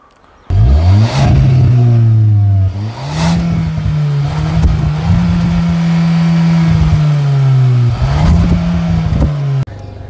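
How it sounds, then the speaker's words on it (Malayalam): Hyundai Creta N Line with a 1.5 litre petrol engine revving hard through its exhaust, with a few sharp climbs, a long held high note and quick drops back to idle, loud and close. "എക്സോസ്റ്റ് നോട്ട് ഭയങ്കര ഒരു ചേഞ്ച് ഒന്നുമില്ല"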